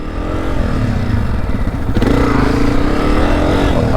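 A dirt bike engine runs at low speed during beginner clutch and brake drills, steady close rumble with slight revving and a mechanical clatter midway.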